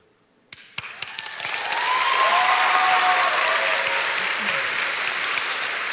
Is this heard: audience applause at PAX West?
yes